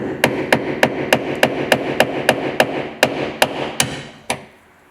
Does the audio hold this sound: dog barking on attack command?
no